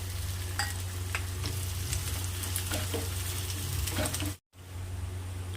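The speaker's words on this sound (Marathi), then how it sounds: "आता कांदा ॲड करू आणि कांद्याला पण छान परतून घ्यायचं आहे" Finely chopped onion sizzles and fries in a pan as the cook stirs it, making a steady close crackle with light scraping throughout, then a brief silence before the frying goes on.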